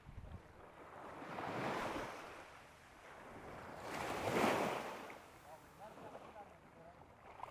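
Waves wash onto munakkakadav beach in two broad swells, rising and falling surges of surf mixed with wind buffeting the microphone, fairly faint and without talk.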